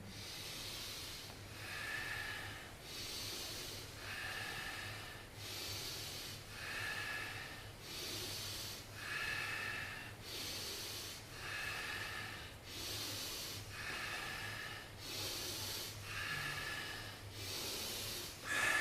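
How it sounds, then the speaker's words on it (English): Deliberate breathing during a guided breathing exercise: soft, rhythmic breaths repeat in steady cycles for nearly twenty seconds, close and quiet, with no talking. "Breathing in."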